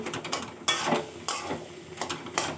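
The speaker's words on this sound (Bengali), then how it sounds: "এবারে আলু আর কাঁকরোলগুলোকে না একটু খুন্তি দিয়ে একটু মিশিয়ে নিচ্ছি" A spatula stirs potatoes and teasel gourd in a pan, giving a run of quiet scraping, clicking strokes in an irregular rhythm with a faint sizzle beneath.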